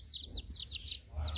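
A black hen and her one-day-old newly hatched chicks make high, thin peeping chirps in quick overlapping bursts, with a soft low clucking underneath, close by.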